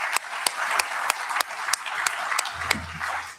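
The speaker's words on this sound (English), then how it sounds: "Please join me with a round of applause to thank the speaker." Sparse, steady claps ring out in a hall at a global conference on AI, security and ethics, each one crisp and separate over faint room noise, with a low hum entering near the end.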